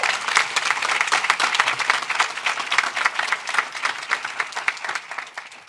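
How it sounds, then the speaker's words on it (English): A crowd of listeners at a governor's bill-signing event breaks into steady, sustained applause, dense overlapping claps continuing without pause at moderate loudness. "go ahead and clap for that, because I want to thank you"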